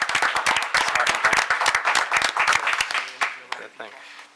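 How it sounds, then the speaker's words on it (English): Applause at a town board meeting as new members are welcomed, a burst of close, distinct hand claps that thins out and fades toward the end. "So we give them a round of applause"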